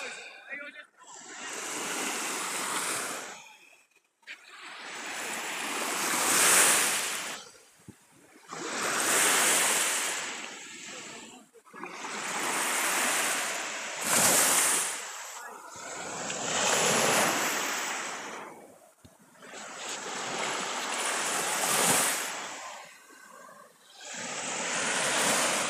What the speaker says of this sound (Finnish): Siellä vielä maininki lyö rantaan.